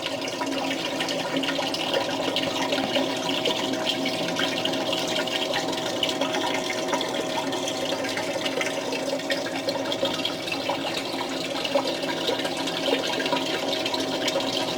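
Water running steadily through a Blue Bowl gold concentrator, washing black sand, a constant gushing, splashing flow with no pauses and no voices.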